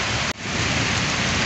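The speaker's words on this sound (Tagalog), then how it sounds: "Kunting ulan lang dito eh, bumabaha na eh." Heavy rain pours down steadily in a constant dense hiss, loud and close, broken only by one brief momentary dropout, with no voices over it.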